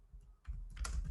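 Computer keyboard typing in short clustered bursts of key clicks, quiet and close, with a pause before picking up into a quicker run, no talking.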